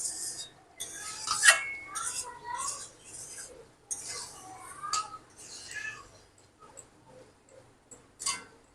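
A utensil clinks and scrapes in a pot of cooked pumpkin, several short irregular stirring strokes that start fairly strong and grow fainter and sparser, close by in a quiet kitchen.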